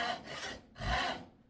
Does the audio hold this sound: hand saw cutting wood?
yes